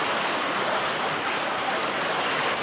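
Alpine spring water channelled along drains into the basins of a traditional farmer's bath, a constant loud rushing flow with no pauses and no voices.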